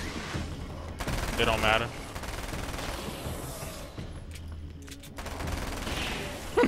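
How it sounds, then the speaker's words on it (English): Submachine gun fire in the Alan Wake's American Nightmare video game rattles out in several rapid bursts between gaps, while someone talks over the shooting. "That damn submachine gun be spitting"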